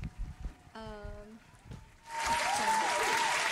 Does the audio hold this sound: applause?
yes